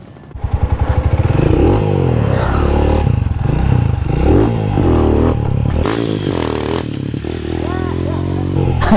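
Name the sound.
motorcycle with low speed sprockets during wheelie practice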